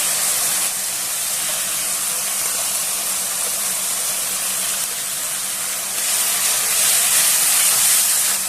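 Ground coriander and cumin paste hits hot oil for a cabbage and egg dhoka dalna, giving a steady broadband hiss that holds for several seconds and grows a little louder near the end, with no talking.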